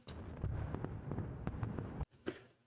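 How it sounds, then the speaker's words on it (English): Fireworks crackling in quick, irregular bursts of sharp pops. The crackling cuts off abruptly, then a single softer pop follows in near silence. "some fireworks went off and already dissipated"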